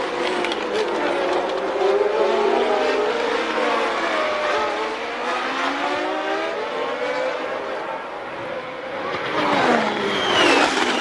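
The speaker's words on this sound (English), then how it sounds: "see the way Carlos Reutemann, Piquet and Jones are closing right up on Pironi." Formula One cars racing at the 1981 Belgian Grand Prix, including Brabham and Williams Ford-powered cars, their engines whining and rising in pitch as a tight pack passes, loud and continuous with doppler sweeps throughout.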